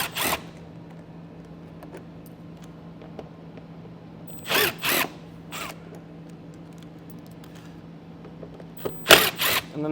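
Power drill backing out T15 Torx fasteners while fitting a Blue Ox base plate kit on a 2024 GMC Canyon: three separate bursts of whirring, each a second or less, over a steady low hum, with no talk.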